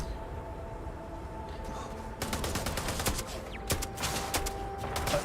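Gunfire in the sci-fi video game Starfield, a rapid cluster of sharp shots crackling over a low ambient hum, starting sparse then bursting into a dense fusillade before trailing off.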